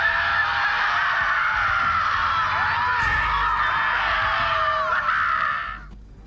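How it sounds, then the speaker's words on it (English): Screaming in the video game Borderlands 3, a dense, shrill, wailing chorus that holds steadily loud for several seconds before fading out, with no clear speech over it. "Do you hear screaming, or am I having another one of my episodes?"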